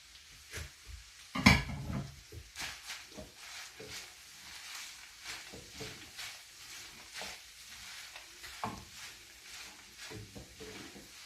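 Stirring chopped parsley into cooked minced meat stuffing for Syrian stuffed zucchini in a pan, with scattered scraping and clinking of a utensil against the pan and a soft sizzle underneath, one louder knock early on, no talk.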